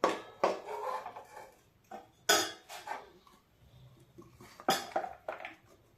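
A spoon scrapes and clanks against a pan while stirring a sticky peanut chikki mixture. Several sharp metallic scrapes come in irregular bursts, close and fairly quiet, with no talking.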